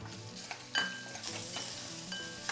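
Onion fries in hot oil with ginger-garlic paste for a horse gram kadhan, a steady close sizzle with scraping stirring strokes and a couple of light utensil clinks.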